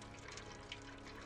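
A cat lapping water in the video game Stray, a soft, steady trickling and wet splashing sound that carries faintly and continuously under a humming game background.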